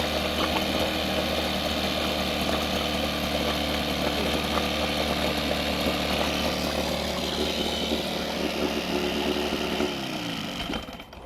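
A Johnson outboard boat engine idles roughly in a constant, loud, vibrating drone with a steady low throb, then falters and dips near the end; no talking.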